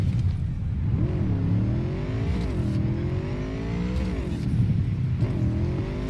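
Motorbike engine in the video game Cyberpunk 2077, revving up and down in repeated loud swells with a rising and falling pitch, steady and close throughout.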